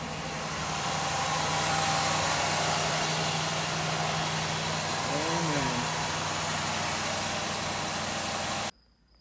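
A 1977 Pontiac Formula, left sitting in a cold garage for years, runs with a steady, loud engine drone close by, a short whine sweeping through midway before the sound cuts off abruptly near the end.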